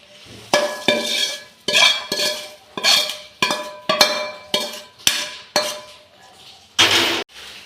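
Spices are tossed through puffed rice (murmura) in a bowl, a series of about ten brisk, rhythmic scraping and clinking strokes of a spoon against the bowl, close and fairly loud.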